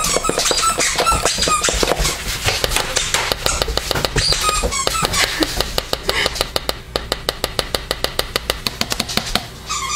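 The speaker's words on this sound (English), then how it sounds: "That's the dog. Thinks it's a great grand idea to squeak her toy lots." A dog squeaks her squeaky toy over and over, the sharp squeaks coming fast and loud, with brief soft talk in the background.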